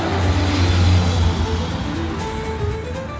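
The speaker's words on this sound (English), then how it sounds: "It is so loud out here because of all these cars." Busy street traffic in Monroe, North Carolina, with cars rumbling past close by, a loud continuous engine drone and tire hum that swells and eases as vehicles go by.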